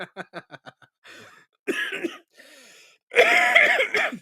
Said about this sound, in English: I've still got a cough